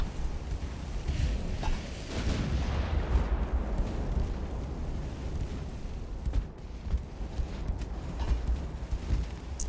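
A destroyer's 4-inch guns fire in Ultimate Admiral: Dreadnoughts, giving repeated booming reports over a continuous rumbling naval battle din that stays steady and fairly loud throughout.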